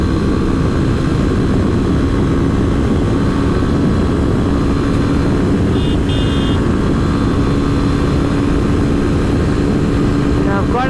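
Yamaha FZ25 motorcycle engine running flat out at its top speed of about 136 km/h, a loud steady roar with heavy wind rush that stays constant throughout.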